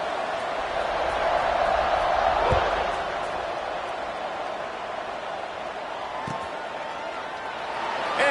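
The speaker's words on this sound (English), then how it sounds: "This crowd is buzzing after that last score." A stadium crowd buzzes in a college football video game with LSU at Louisville, a broad steady roar with a brief thump partway through, heard under a commentator's voice.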